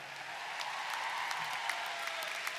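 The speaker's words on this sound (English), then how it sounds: "those who supported you a round of applause." An audience at a Stockton University baccalaureate ceremony applauds graduates' families and supporters, a faint, steady wash of many hands clapping in a large hall, with no talking.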